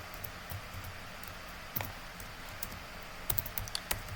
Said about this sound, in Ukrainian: Вписуємо почту.